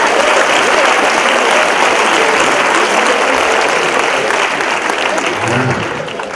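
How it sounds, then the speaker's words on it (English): An audience at a stage hypnosis show breaks into sustained, loud applause for volunteers coming up on stage, a dense wash of clapping that holds steady before tapering slightly at the end. "Folks, let's give it all a nice big round of applause."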